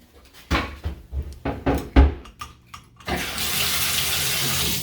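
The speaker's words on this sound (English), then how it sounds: "so for Westgate you have to pull them to turn the water on." Several knocks and clunks of a pull-to-open faucet being handled in a Myrtle Beach oceanfront resort room, then water gushes steadily into a sink.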